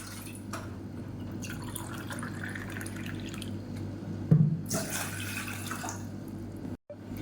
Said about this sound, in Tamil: இதில் வந்து நல்லா ஒரு 250 ml அளவுக்கு தண்ணி சேர்த்துக்கலாம்